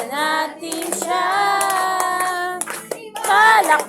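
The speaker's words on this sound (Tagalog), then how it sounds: "Palakpak ang iyong kamay" Hands clap along to a lively Filipino worship song, the claps landing as sharp beats under prominent group singing that carries the melody throughout.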